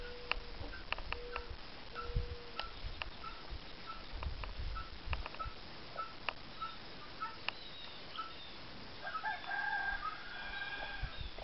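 A buff Wyandotte hen and her newly hatched chicks cluck and peep softly nearby in scattered short calls, faint against a quiet background, with no one speaking.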